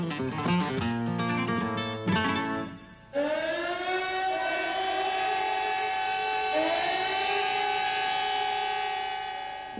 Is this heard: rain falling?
no